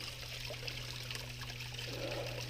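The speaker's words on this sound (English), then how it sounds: "That's not the waterfall, but that's the creek." Creek water trickling steadily at a forest creek near a waterfall, a continuous soft dribble and babble under a low constant hum, no talk.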